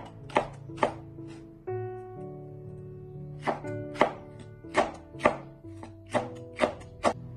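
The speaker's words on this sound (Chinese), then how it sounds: "把所有的青椒切成均匀的辣椒丝" A kitchen knife chops green peppers into strips on a cutting board, giving crisp, evenly spaced chops in bursts with a short pause partway through, close and clear with nothing else over it.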